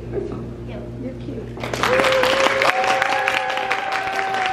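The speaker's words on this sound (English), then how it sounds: "loud round of applause" Applause from a convention audience at VidCon 2022 swells in partway through, a loud round of clapping and crowd noise with a sustained tone running underneath.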